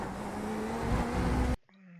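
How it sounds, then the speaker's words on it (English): The engine of a Chevrolet Corvette Z06 GT3.R roars loudly in iRacing at the Imola circuit as the car is downshifted into second gear, holding a steady high drone. It cuts off abruptly near the end, leaving only faint residual noise. "downshifting to second gear when the car lands here"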